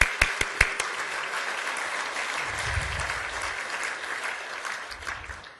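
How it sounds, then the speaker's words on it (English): An audience at a regional economic summit breaks into applause for a governor's decades of public service: a few sharp early claps swell into a dense, sustained round that slowly fades. "That deserves a round of applause."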